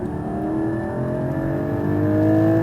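A Porsche sports car on a track accelerating at full throttle up the straightaway toward 8,000 rpm, a loud, steady engine drone whose pitch climbs gradually, heard from inside the cabin with no talking.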